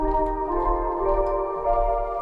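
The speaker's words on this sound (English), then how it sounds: "the fourth thing that I'm gonna add is this blessed pad right here" A warm synth pad holds a sustained chord, smooth and steady, with a low rumbling bass underneath and no talking.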